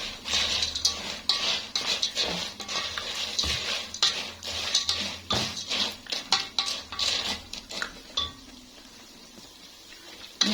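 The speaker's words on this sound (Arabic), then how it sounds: "هنقلب بقى لحد الاتنين ما يحمروا" A spoon stirs and scrapes inside a single pot while ingredients brown for Egyptian koshari, giving close, busy metallic clinks and clatters that keep repeating with no talking.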